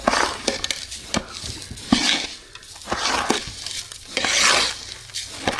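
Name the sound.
stirring ragi/kesari mixture in a pot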